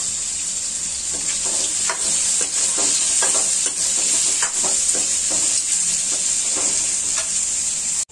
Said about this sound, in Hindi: इन्हें हल्की आंच में भूनने के बाद इसमें जो हमने आंवले के पीसेस कर लिए हैं वो सारे पीसेस इसमें डाल देंगे